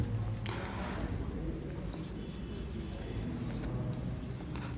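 Chalk or marker scratching across a board as lecture notes are written, continuous short strokes with brief pauses, close and moderately loud over faint room noise.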